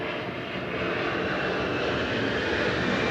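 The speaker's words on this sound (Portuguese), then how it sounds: "Pausou por causa do avião." An airplane passes overhead as a loud, steady engine roar that fills the whole stretch without rising or fading, with no voices.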